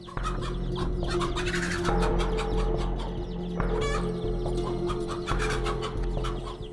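A mother hen clucks repeatedly while guiding her chicks away from a monkey, amid a busy, noisy outdoor scene, with steady background hum and chirpy bird sounds throughout.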